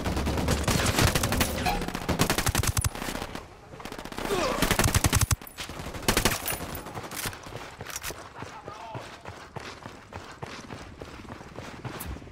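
Gunfire in Ghost Recon Wildlands: dense bursts of automatic fire crackle in rapid volleys, loud and close, with short pauses between bursts and then sparser shots trailing off, alongside some game voices.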